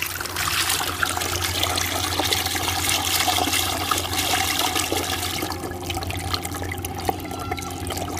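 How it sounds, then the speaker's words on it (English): A DC50E-1280S micro brushless DC pump running with water, giving a steady, continuous watery rush and trickle, close and fairly loud, with no talking. "Well, let's feel the noise of this pump."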